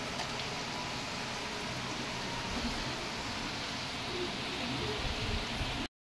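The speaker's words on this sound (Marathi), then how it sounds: "छान पाऊस पडतोय." Steady rain falling outdoors over a yard of newly planted mango, cashew and coconut saplings: an even, close, broadband hiss that holds for about six seconds and then stops abruptly.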